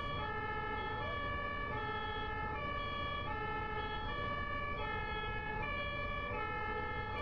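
An ambulance siren in Germany wails in a steady two-tone alternation, loud and continuous throughout, with the pitch stepping up and down about every second and a half, alone with no talk.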